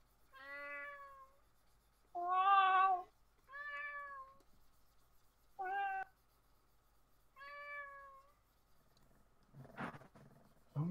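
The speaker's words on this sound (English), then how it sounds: "was the actual cat making those noises?" Cat meowing right into a microphone, five or six drawn-out, distinct meows spaced a second or two apart, loud and close, followed by rustling handling noise at the end.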